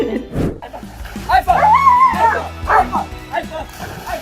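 A dog barks and whines up close, with short yips and a drawn-out whimpering cry over a few seconds, while people talk around it.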